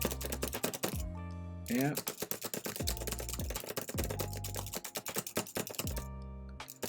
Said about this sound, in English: So started to type in some stuff